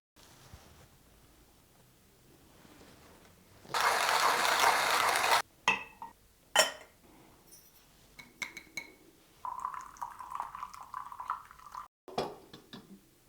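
A Comandante C40 hand coffee grinder, set for Turkish coffee, gives a loud rasping grinding burst, then scattered mechanical clicks and small metallic clinks close by, with no voices.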